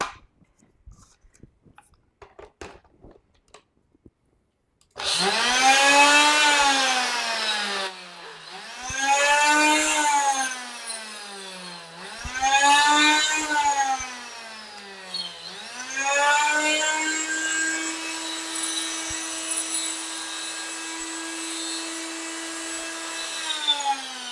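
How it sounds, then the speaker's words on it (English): After a few seconds of near silence, a kitchen grinder spins up and whirs loudly in repeated bursts as dried mushrooms are ground into powder. The pitch sags and recovers as the blades catch the pieces, and faint clunking is heard under the motor. "can you hear that little clunking around? We are making mushroom powder."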